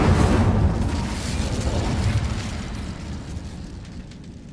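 The Incendio fire spell from the game Hogwarts Legacy bursts out as a loud whooshing blast of flame that fades over a few seconds.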